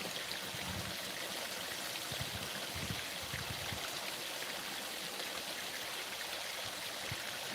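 A bayou creek along a birding trail flows steadily, a constant broadband rush and trickle with no pauses, moderately loud and near, with faint low rumbles from handling early on.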